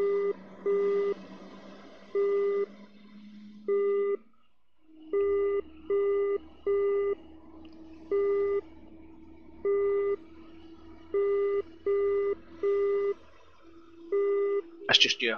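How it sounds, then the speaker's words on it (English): Radar warning receiver beeps in the DCS World flight simulator, F-15 cockpit: a steady series of short, evenly spaced electronic tones repeating throughout, loud over a low engine drone, with a brief sweep near the end. "I don't know what the beeps mean."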